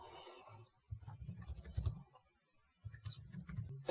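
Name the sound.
typing code on a computer keyboard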